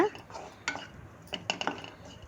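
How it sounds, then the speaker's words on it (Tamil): Egg rice is stirred in a pan over a low flame, a spoon scraping and clinking against the metal in several quick, close, fairly quiet bursts. "போட்டு சிம்லையே வச்சு நல்லா கலந்து விட்டுக்கங்க."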